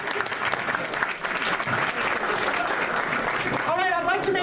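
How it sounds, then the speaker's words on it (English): An audience applauds steadily after a round of applause is called for Sophia at a luncheon event, with crowd noise and a voice briefly rising near the end. "And a round of applause for Sophia."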